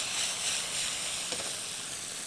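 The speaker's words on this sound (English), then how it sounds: "Listen to that sizzle." Steady, bright sizzling of chicken stir-frying in a hot pan, a continuous crackling hiss heard up close with no talking.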